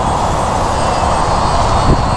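A Parkzone UM Spitfire radio-controlled model plane flies outdoors over a field, its small electric motor giving a steady, fairly loud buzzing whine that holds constant without pause and with no talk over it.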